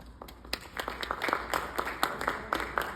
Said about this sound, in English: Let's give Ms. Rowland a hand of applause for that.